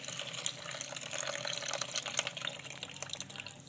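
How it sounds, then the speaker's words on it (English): Rinse liquid is dumped out of an outboard motor fuel tank under repair, a continuous close splashing pour lasting a few seconds. "So let's go ahead and dump this tank."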